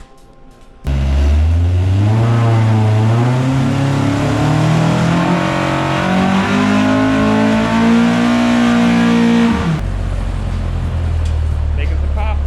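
Honda S2000 with an F24 stroker engine revving hard during a tune, a loud sustained pull with rising and falling pitch that cuts off abruptly, followed by quieter idle, with a voice heard alongside.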